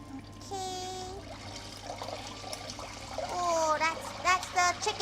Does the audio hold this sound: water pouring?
yes